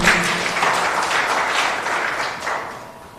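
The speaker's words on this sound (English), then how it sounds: "A bigger round of applause to the UNEB team." Sustained audience applause at a Ministry of Education ceremony releasing primary school exam results, dense steady clapping from a large crowd, loud and continuous with no speech over it.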